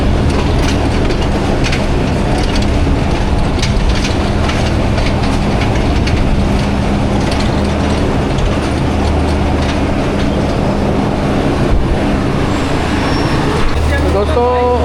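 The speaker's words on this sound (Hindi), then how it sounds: "तकरीबन आधा घंटा डिले के साथ ट्रेन हमारी पहुंच रही है" Jaffar Express passenger train pulling into Rawalpindi railway station on a rainy day, a loud continuous low rumble with rolling wheel clatter, heard close throughout.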